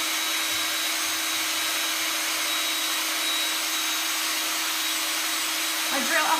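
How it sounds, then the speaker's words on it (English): A Ryobi drill bores a hole straight through a piece of wood, giving a loud, steady whirring drone that runs unbroken for the whole stretch and rises slightly near the end. "I drill a hole right through my piece of wood."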